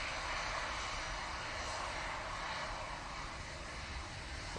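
Boeing 787 Dreamliner airliner on its takeoff roll at Manchester Airport, a steady, broad roar of jet engines heard from a distance, fairly faint and continuous throughout with no talking.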